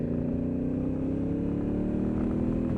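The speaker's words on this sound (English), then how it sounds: "I dropped it down to third and accelerated up to 60." Honda CRF1000L Africa Twin DCT motorcycle in 2019 form dropping to third gear and pulling hard, a steady loud engine drone with rising harmonics heard from on the bike, no voices.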